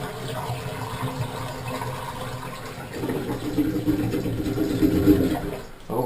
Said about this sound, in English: when you pull the drain, or when you use the sink, you can hear it drain